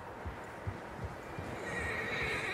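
Several horses in Red Dead Redemption 2 whinny and neigh faintly in the distance while hooves clip-clop in a loose rhythm over a steady outdoor ambience, with no talk.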